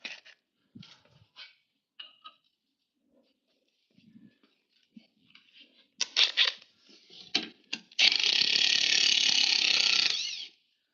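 A ratchet with a 12mm socket clicks on the pin retainer of a Toyota HZJ75 Troopy during a leaf spring install, with faint scattered handling noises first, then short bursts of clicking and a long rapid ratcheting run near the end.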